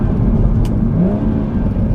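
A BMW M140i engine runs loud and steady, droning with a low whirring note as the car pulls along slowly through gear changes, with one brief shift-like break in the middle.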